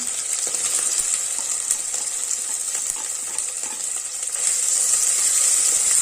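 Green chilies, ginger and onion sizzle steadily in hot fat in a pan for ghee rice, a continuous close frying hiss with faint crackles, growing slightly louder near the end, with no talk.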